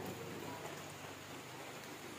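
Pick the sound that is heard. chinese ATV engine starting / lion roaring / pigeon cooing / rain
rain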